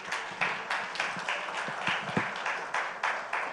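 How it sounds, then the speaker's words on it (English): Audience applause at a summit event, a steady wash of many hands clapping with rhythmic peaks, moderately loud and without speech. "A round of applause, ladies and gentlemen"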